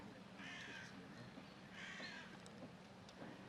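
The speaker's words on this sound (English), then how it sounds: "Hear the birds talk to you today" Two distinct crow caws ring out about a second apart, followed by fainter calls, against a quiet outdoor background.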